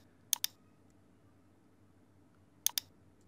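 A computer mouse clicking, two quick double clicks about two seconds apart, crisp and close against a faint steady room hum.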